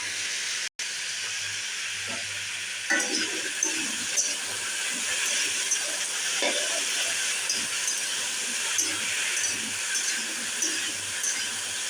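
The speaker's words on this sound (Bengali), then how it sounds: "আমি হালকা করে ভেজে নিচ্ছি" Chopped potatoes frying in a pan after a chilli tempering for a Bengali aloo chhechki, a steady loud hiss and sizzle close by, broken by a few faint scrapes and clatters.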